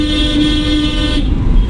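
A car horn sounds one long, steady honk for over a second, then cuts off, leaving the rumble of traffic and engine noise.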